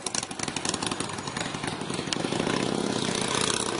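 A southbound Amtrak Surfliner passenger train approaches at Del Mar, a broad diesel rumble with rhythmic pulsing that grows steadily louder and closer, with no talking.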